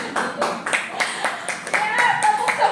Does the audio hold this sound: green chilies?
no